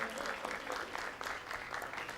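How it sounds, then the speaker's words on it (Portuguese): A room full of people claps steadily during a city council session, a dense continuous patter of applause with a few faint voices mixed in. "Cadê o aplauso da Amélia?"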